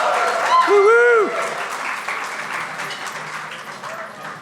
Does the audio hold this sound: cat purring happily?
no